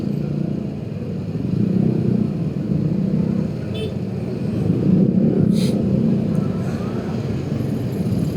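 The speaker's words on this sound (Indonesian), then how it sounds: "Kita kena macet lagi teman-teman" Traffic jam on a street in Bogor during a festive evening, with a steady low rumble of idling and creeping cars and motorcycles close by, swelling slightly at moments, plus faint scattered higher sounds in the background.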